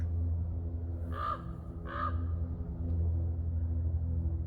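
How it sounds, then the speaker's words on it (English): Two harsh crow caws ring out in quick succession in the woods, a short pause between them, over a steady low hum of background noise. "we had a crow calling"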